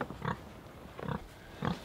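Pigs being loaded into a transport box give three short, faint grunts spaced evenly apart, with quiet gaps between them.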